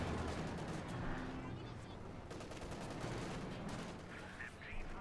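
Machine-gun fire from an MG42 in the strategy game Company of Heroes 2, dense rattling bursts and explosions in a busy battle soundscape, continuous and fairly loud throughout.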